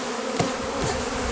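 Honeybees from a package being shaken into a hive keep up a steady, loud swarming buzz, with a faint knock near the start.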